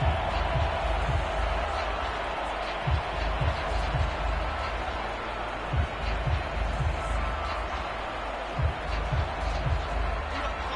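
A football stadium crowd keeps up a sustained roar on third and inches, trying to force a false start. Scattered thumps punctuate the din, and a commentator talks over it.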